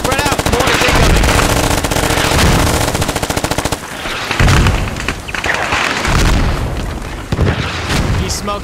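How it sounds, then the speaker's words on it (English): Incoming mortar rounds and gunfire in the video game Squad: loud rapid machine-gun bursts run almost nonstop, broken by heavy booming impacts, with voices faintly audible beneath the battle. "Mortar's incoming."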